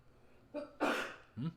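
A single short, faint sneeze bursts out in a quiet room during a 10-ball pool match, preceded by a small intake of breath and followed by a brief vocal sound.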